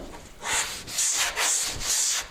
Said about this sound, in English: rotate my block so that I can keep that contour as I'm sanding.